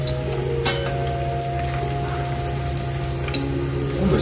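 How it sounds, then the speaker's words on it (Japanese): Peeled Shinshu eggplant deep-frying in oil at a low temperature in a restaurant kitchen, giving a steady, soft sizzle and bubbling with a constant background hum and no talk. "油で揚げていきますね。"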